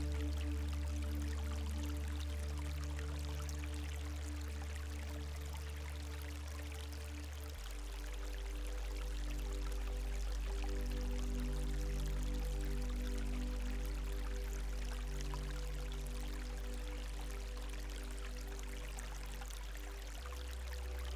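A gentle river stream flows in a quiet natural setting, a soft, steady trickling wash, faint and continuous, with a low hum beneath and no voices.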